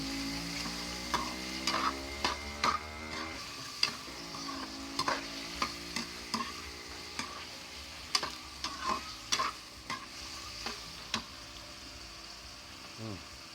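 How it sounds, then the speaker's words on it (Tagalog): Food is stirred in a sizzling pan, with a steady frying hiss under repeated sharp clicks and scrapes of a utensil against the pan at an uneven pace, and a faint tonal hum early on. "Sabay halo-haloin na natin."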